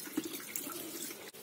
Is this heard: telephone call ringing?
no